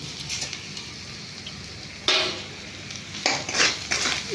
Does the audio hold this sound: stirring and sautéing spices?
yes